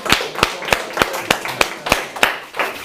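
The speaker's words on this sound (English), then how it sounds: "Give her a round of applause" Audience applause at a live speaking event, heard as about ten sharp, evenly spaced claps, close and fairly loud, with no voices over them.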